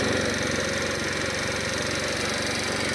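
A GY6 scooter engine idles steadily while warming up, its close, continuous putter loud and even throughout with no voices over it.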